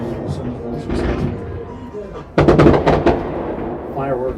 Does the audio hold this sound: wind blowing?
no